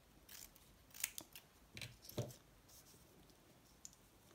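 Scissors cutting paper to make photo pockets: several close, crisp snips in an uneven rhythm, quiet, with no speech.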